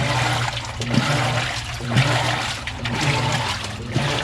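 A Whirlpool top-load washing machine agitates a drum of water, giving a steady churning slosh with rhythmic pulses about once a second. The sound is close and moderately loud, with no talking.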